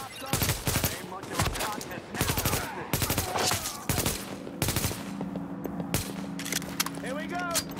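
Loud bursts of automatic gunfire in The Division come in uneven clusters separated by brief gaps, with single sharp shots and a steady electronic tone underneath.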